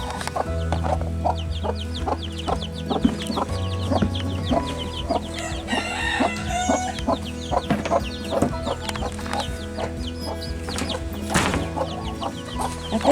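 Young chickens cluck and chirp steadily in a small coop on a farm, many birds close together, with a rooster-like call rising briefly near the end over a constant low background hum.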